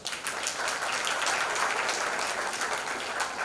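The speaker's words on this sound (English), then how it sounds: "Give a round of applause for their parents." Sustained applause for parents from an audience at a school event, an even, continuous roar of many hands clapping at moderate distance, with no voices standing out.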